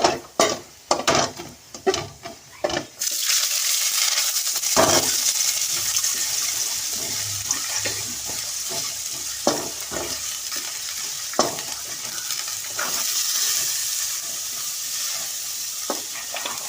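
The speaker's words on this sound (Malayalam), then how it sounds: "അങ്ങനെ സവാള നല്ലോണം വരട്ടി എടുത്തിട്ടുണ്ട്" Sliced onions sizzle steadily in a hot frying pan, with a spoon scraping and stirring at intervals; several sharp clatters open the scene before the continuous frying takes over, close and fairly loud.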